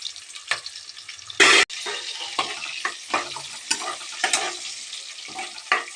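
Onion fries in hot oil with whole spices such as cumin, pepper, cardamom, cinnamon and dried chilli, giving a close, steady sizzle broken by repeated stirring scrapes and one loud splash-like burst.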